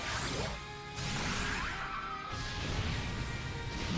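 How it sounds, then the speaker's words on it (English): Glass-crinkling sound effect from the Super Robot Wars Y video game as mechs activate a move, a loud, dense shattering crash with swooshing sweeps, continuous over about four seconds. "it's a weird sound effect when these guys activate their glass crinkling sound"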